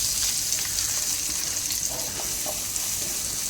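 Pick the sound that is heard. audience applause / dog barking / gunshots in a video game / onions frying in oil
onions frying in oil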